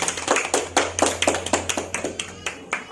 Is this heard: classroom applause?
yes